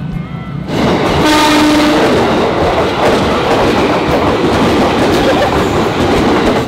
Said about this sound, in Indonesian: Udah berapa kereta ya lewat ya?